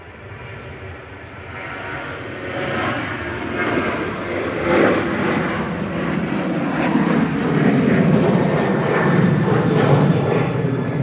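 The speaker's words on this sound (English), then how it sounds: "Ryanair flight 3204 over to Rome there" A Ryanair jet airliner on a flight to Rome passes at Manchester Airport, a broad engine roar that swells gradually and holds strong toward the end.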